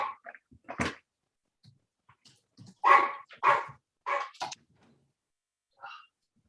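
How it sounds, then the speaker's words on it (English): A dog barks during a school district board meeting, a handful of sharp, loud barks in irregular bursts with quiet gaps and a softer final yelp, close to the microphone. "I apologize for that dog."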